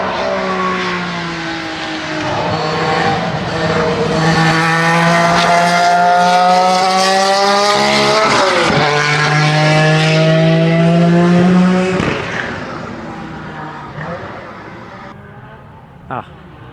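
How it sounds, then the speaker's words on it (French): A V6 turbo race car accelerates hard on the Linas-Montlhéry circuit, its loud, close engine note climbing steadily through the gears for about twelve seconds before fading away. "Écoutez ça un petit peu, écoutez le V6 turbo,"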